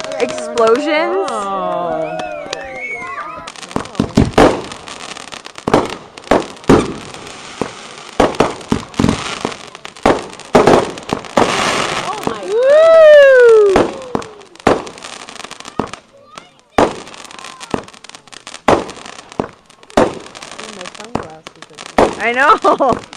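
Backyard family fireworks crackle and pop in rapid irregular bursts, with whistling rockets rising and sharp loud bangs throughout, while people cheer and talk excitedly nearby.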